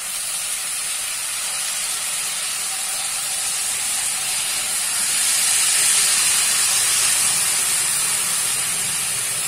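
Boiled banana flower goes into a pan with ginger-garlic paste and sugar and sizzles, giving a steady loud hiss that swells slightly midway and runs without a break, with no voices.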